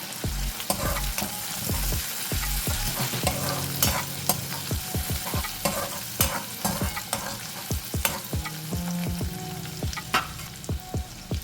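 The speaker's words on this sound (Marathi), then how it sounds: "आता हे घाटून घेऊया" A spoon stirs oyster masala with coriander in a hot pan, its frequent scraping strokes clattering over a continuous loud sizzle of frying, with no voices.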